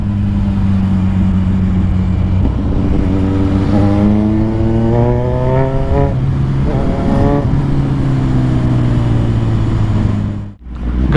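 A Kawasaki Z1000 motorcycle engine accelerating on a road ride: a loud, close inline-four note climbing through several rising pitch sweeps as the gears change, with a brief lift-off near the end.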